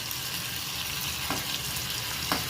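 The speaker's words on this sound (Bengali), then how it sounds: "তো সেটা থেকেই এখন ঘি বানানো হচ্ছে" Milk cream heated in a pan to make ghee gives a soft, steady sizzle and bubbling, quiet and continuous with faint stirring and no voices.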